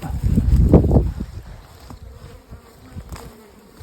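A loud burst of buzzing honeybees near the microphone as they are shaken off a hive frame, with rustling and thumps, then the swarm settles into a fainter, steady hum.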